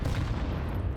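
Grenades detonate in a Counter-Strike-style video game, a dense, continuous barrage of overlapping booms and rumbling blasts filling the whole second at steady loudness with no pauses.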